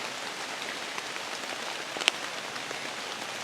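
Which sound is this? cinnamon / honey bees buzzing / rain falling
rain falling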